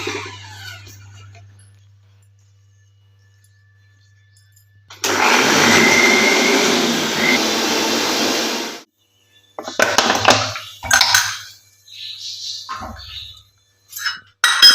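A mixer grinder whirs loudly for a few seconds as it blends ginger, garlic and shallots for a village-style country chicken curry, then stops and restarts in short bursts with clinks in between.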